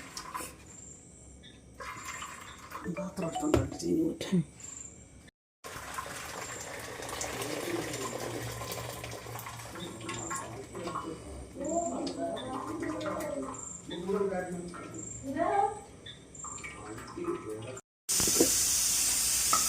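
Tap water runs steadily over shallots and onions as they are washed in a home kitchen, a continuous close splashing wash with people talking over it.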